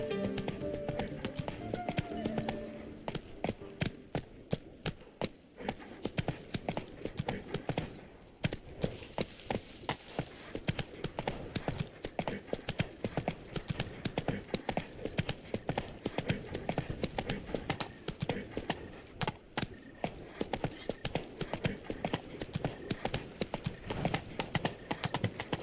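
A horse gallops without a break in The Witcher video game, with dense, rapid clip-clop hoofbeats that stay loud and close, under a steady game soundscape.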